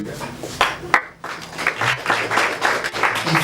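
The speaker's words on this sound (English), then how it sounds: "If we are clapping for Jesus," A congregation at a church anniversary and book launch service claps for Jesus, with scattered, uneven hand claps and shouts rising and falling rather than settling into one steady ovation.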